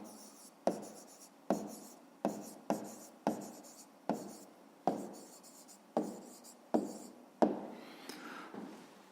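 A pen writes out a fifth-grade maths exercise on paper, with about a dozen short scratchy strokes each starting with a tap, coming in a steady rhythm, close and quiet.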